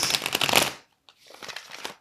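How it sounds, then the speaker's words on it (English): Tarot cards being shuffled by hand, a dense riffling burst, a short pause, then a second softer run of shuffling, close and with no talk. "I'm going to have to shuffle"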